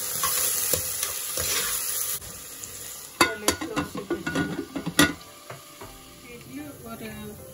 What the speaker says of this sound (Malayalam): കുറച്ച് ഓണിയൻ, സോൾട്ട് ഇടും. സോൾട്ട് ഇട്ടാൽ വേഗം ഫ്രൈ ആകും.